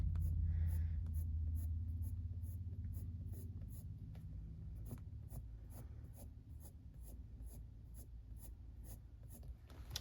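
Polychromos coloured pencil in shade Nougat 178 stroking across paper while shading blonde hair, a close, steady run of dry scratchy strokes with a soft low rumble underneath and no talking.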